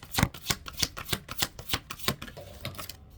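Angel tarot cards being shuffled for a reading: a quick run of crisp, close riffling bursts in a steady rhythm, with no voices.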